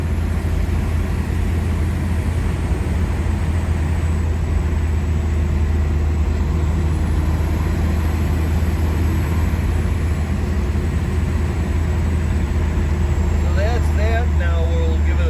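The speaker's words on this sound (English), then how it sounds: "We're cruising at 65 right now." 1992 Isuzu Rodeo 3.1 turbo diesel 4x4 with a 5-speed and all-terrain radials cruising at 65 mph, a steady low engine and road drone inside the cab, with faint speech near the end.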